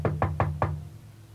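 Four quick raps on a wooden door, close and evenly spaced in a single burst, then a fading ring of resonance and silence; no voices.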